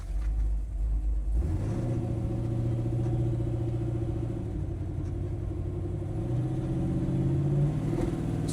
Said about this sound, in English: Great idle still.